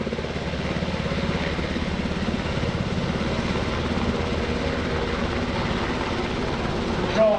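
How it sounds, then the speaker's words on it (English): A UH-60 Black Hawk helicopter climbing out at an airshow over Greenwood Lake, its steady rotor and turbine roar close and loud, continuous throughout with a brief swell near the end. "the helicopter starts to climb out"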